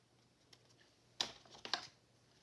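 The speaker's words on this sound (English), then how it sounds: "So I need to just trim that doily off from here to there." Scissors snip through a paper doily for a Christmas altered-book junk journal page, with two quick, crisp cuts close by in an otherwise quiet room.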